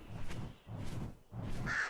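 A terror bird creature in the video game Ark: Scorched Earth gives three loud, rough, harsh calls, evenly spaced and close, with no voices.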